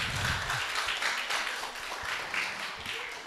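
A crowd applauds at a university debate competition final, with dense, steady clapping that continues throughout, moderately loud and slightly distant.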